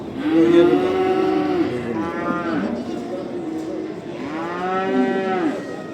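Calves at a livestock market in Barda give loud, drawn-out moos, with one long call early and another near the end, over a low murmur of the market crowd.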